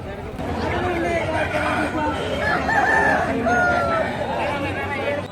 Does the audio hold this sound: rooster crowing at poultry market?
yes